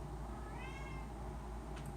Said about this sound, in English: What is this cat meowing about?